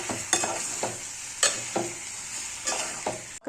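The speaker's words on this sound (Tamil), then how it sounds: "இஞ்சி பூடு எல்லா இடத்துலையும் படுற மாதிரி, கறி எல்லாத்துலேயும் படுற மாதிரி நல்லா கிளறி விட்டுக்கலாம்." Liver being stirred in a frying pan with ginger and garlic, a steady sizzle broken by repeated scraping strokes of the spoon at a slow, even rhythm, close up with no talking.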